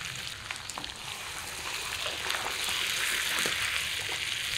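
Mutton curry with potatoes sautéing in a pan, giving a continuous close sizzle that swells louder partway through, with a few soft scrapes of stirring.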